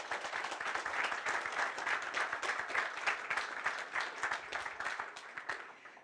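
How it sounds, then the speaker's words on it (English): An audience applauds after a presentation on the Melon technology stack, with dense, steady clapping that stays fairly loud throughout before thinning slightly at the end. "So I think she deserves an applause."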